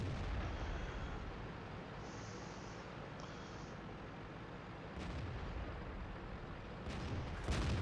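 Tank gun fire in the video game World of Tanks, a distant rumbling battlefield bed broken by a sharp cannon report near the five-second mark and another heavy blast just before the end.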